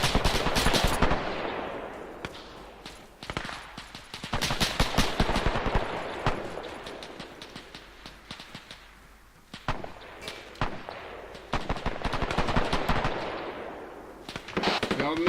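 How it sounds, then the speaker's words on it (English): Rapid machine gun bursts crackle through a tactical shooter video game firefight, loud and near, repeating in long volleys with brief lulls and scattered single shots. "We have a machine gun to our west."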